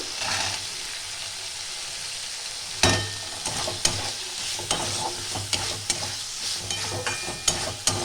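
Cabbage spice mix with green peas sizzles steadily in a pan, with a spatula scraping and knocking against the pan every second or so, close and clear with no voices.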